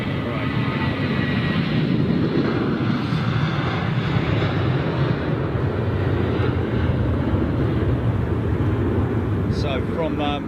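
A jet airliner on its retirement flight roars past as a broad, steady wash of engine noise that swells and slowly fades, heard from a distance outdoors with faint voices under it.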